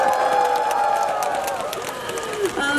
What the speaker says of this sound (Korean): 여러분 다시 아무 일 없을 때 먼저 박수 한번 부탁드리겠습니다